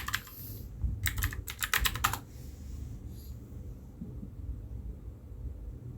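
Computer keyboard typing a network command: a quick close burst of several key clicks over about a second, then quiet low room hum for the rest.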